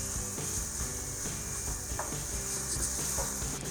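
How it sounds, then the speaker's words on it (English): Sliced onions sizzling in a hot frying pan, a steady close crackling hiss with light irregular pops and occasional utensil clicks, no talking. "sliced onions. As you can hear, it's sizzling."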